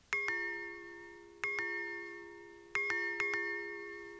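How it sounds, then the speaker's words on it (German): A doorbell chimes four times, one ring, another, then two close together, each a bright ding with a ringing tail in a quiet room. "Diesmal klingelt die Springmaus gleich viermal"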